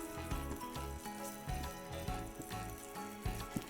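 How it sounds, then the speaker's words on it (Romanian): Sliced garlic and chili frying in olive oil in a hot pan, a close, dense crackling sizzle with rapid popping bursts, continuous and alone. "În tigaia încinsă o să pun ulei de măsline, usturoiul feliat și ardeiul iute."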